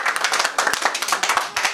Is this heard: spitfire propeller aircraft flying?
no